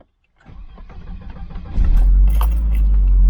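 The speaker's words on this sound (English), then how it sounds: "Takes a few cranks to start, doesn't she?" A Volvo 940 Turbo engine cranks over with a jangle of keys, then catches and settles into a loud, steady low rumble close by, with no talk.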